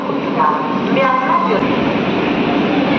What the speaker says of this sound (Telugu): మన ట్రైన్ చెర్లపల్లి స్టేషన్కి చేరుకుంది 10 నిమిషాల ఆలస్యంగా